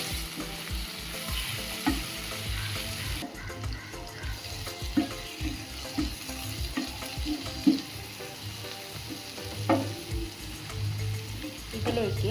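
A masala with chili and turmeric powder sizzles hard in a frying pan while being stirred for pomfret pollichathu. The frying hiss stays loud and continuous, broken by repeated scraping and tapping strokes from the spoon.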